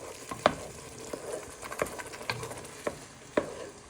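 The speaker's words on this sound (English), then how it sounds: "we're just stirring in our tomatoes into the pan to make our nice sauce" Chopped tomatoes stirred into a homemade tomato sauce in a pan, with a gentle simmering sizzle beneath about six distinct spoon scrapes and clacks spaced irregularly, close and moderately quiet with no talking.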